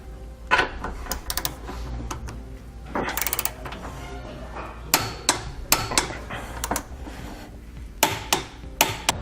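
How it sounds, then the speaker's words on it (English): A torque wrench clicks and ratchets while tightening the mounting hardware of a CURT Class 3 2-inch trailer hitch receiver on a 2019 Cadillac XT5. The sharp mechanical clicks come in irregular clusters over a low background rumble. "We can now take a torque wrench and actually torque all of our hardware down."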